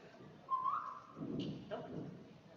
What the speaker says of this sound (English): I'll teach my horses to come to a whistle.